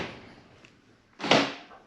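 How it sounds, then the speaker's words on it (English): A Holden VX Calais car door, its inner door cards removed, shuts with one solid, close thud after a stretch of quiet rustling, with a short mechanical rattle trailing off after it. "let's shut the doors, seeing we've got the door cards off, and hit the central locking and see what happens."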